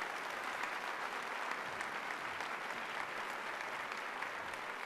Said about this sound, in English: I know you're applauding